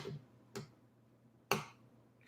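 Three slow, sparse clicks, spaced unevenly and quiet, imitating someone typing slowly on a keyboard.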